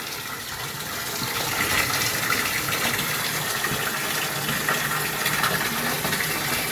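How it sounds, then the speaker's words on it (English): Tap water gushes steadily into a newly plumbed bathtub, a continuous, fairly loud rushing fill without pause. "So we're going to fill it up the rest of the way and test out the water jets."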